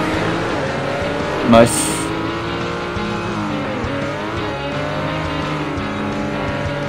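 A race car in a beach bubble racing video game roars as its nitrous boost kicks in, the engine note steady and loud with a brief burst, while a player's voice comments over it.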